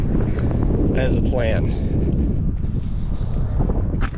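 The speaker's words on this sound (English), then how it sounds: "it's windy as heck" Strong wind buffeting a microphone outdoors at a stop on a small-plane trip to Yankton, South Dakota, a loud continuous low rumble with brief speech heard over it.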